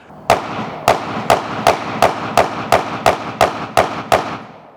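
Handgun fitted with an Olight PL X weapon light firing eleven loud, close shots at a steady, fairly quick rhythm, each a sharp crack with a short tail, with no talking.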